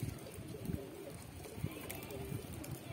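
Pigeons cooing high overhead in flight, soft low coos repeating faintly against a steady outdoor background hiss.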